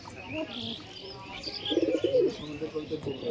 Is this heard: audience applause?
no